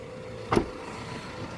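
A 2016 Fiat Doblo car door swinging shut, heard as one short, solid thud close by against a quiet interior hum.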